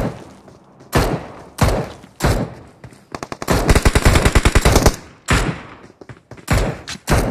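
Rapid bursts of automatic gunfire from the mobile shooter Battlegrounds Mobile India, with single heavy shots and thuds spaced out, then a long dense rattling volley in the middle, loud and close with no talk over it.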